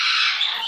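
A pet bird perched near the edge of a desk lets out a single short, loud, harsh squawk close to the microphone.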